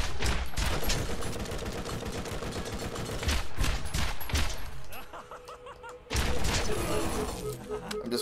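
A Scorpio turret in the Borderlands video game fires rapid volleys of rounds, loud bursts of gunfire crackling close by, breaking off into a short lull before another barrage starts.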